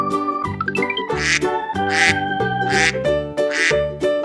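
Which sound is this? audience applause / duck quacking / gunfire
duck quacking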